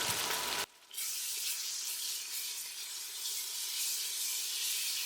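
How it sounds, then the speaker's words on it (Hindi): Ginger garlic paste sautéing with onions in a pan, a steady close frying sizzle with a brief clatter at the start, no voices. "अदरक लहसुन अच्छी तरह से भून लें।"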